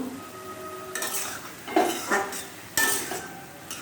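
Soaked soybean chunks, drained of water, are tossed and stirred in a pan to fry, with utensil scrapes and clanks against the pan over a faint sizzle, close by and without talk.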